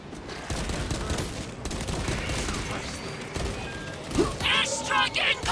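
Gunfire from a Warhammer 40K: Space Marine 2 battle, bursts of rapid shots and crashing impacts layered with combat noise, loud and continuous, with a voice speaking over it.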